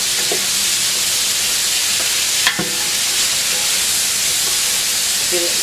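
Tomatoes cooking down in a pot until soft for homemade ketchup, giving a loud steady hiss of steam and sizzle with a brief stir or clink midway, no talk.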